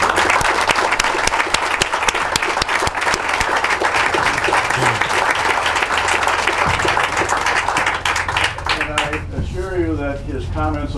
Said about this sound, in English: Raleigh, would you stand up for a round of applause?